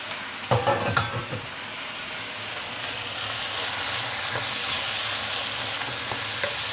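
Potato and blanched pork chunks hit a pan of browned shallots for Nyonya babi pongteh, with a short burst of clattering and stirring at first, then a steady, close hiss of sizzling that continues alone with a few faint clicks.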